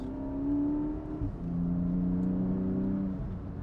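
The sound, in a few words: Porsche 718 Boxster GTS 4.0-liter flat-six engine revving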